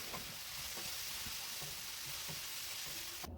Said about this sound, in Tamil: வெஜிடபிள்ஸ் எல்லாமே போட்டு வதக்கிட்டுருக்கிறேன்.